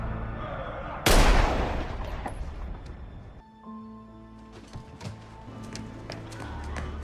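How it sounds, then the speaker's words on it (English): A gunshot from the TV series Daredevil (Season 1, Episode 2, "Cut Man") cracks out loud and sudden, followed by a few seconds of decaying noise, then quieter dramatic scene sounds and faint background tones. "He heard the gunshot from that far away?"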